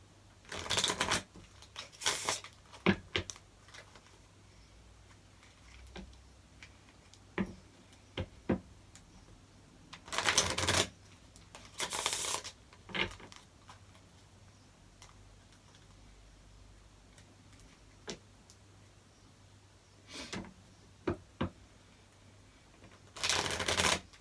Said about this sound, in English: I'm just really trying to give this a good shuffle